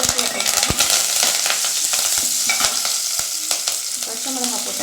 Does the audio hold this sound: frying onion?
yes